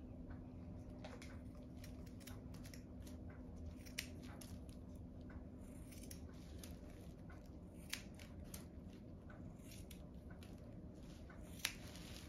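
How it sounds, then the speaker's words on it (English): Scissors snip through a child's hair during a first haircut, a soft, steady series of faint clicks and crisp cuts over a continuous low background hum, with a few sharper snips standing out. "let's start to cut your hair"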